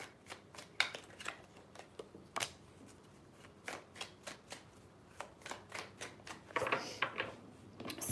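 A deck of tarot cards is shuffled close by in quick, crisp riffling bursts, with clicks and flutters repeating irregularly over several seconds.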